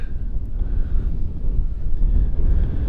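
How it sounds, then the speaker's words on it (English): Strong wind buffets the microphone in a steady, loud low rumble with no pauses and no voices. "It's another windy day"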